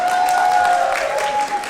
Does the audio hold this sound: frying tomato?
no